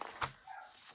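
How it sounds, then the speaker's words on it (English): A neighbour's dog barks once or twice in the distance, faint and muffled, with a quiet room tone around it. "I didn't know that there's a dog somewhere around"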